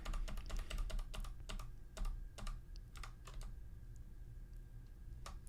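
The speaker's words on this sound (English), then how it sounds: "All I did was hit the up arrow on my keyboard and it moved it where I needed." Computer keys tapped in quick irregular bursts, close and crisp, with single clicks between clusters over a steady low hum, no talking.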